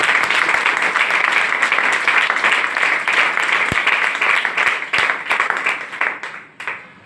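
Loud, sustained applause from a room of people at a team meeting, dense clapping holding steady for several seconds and then thinning out toward the end.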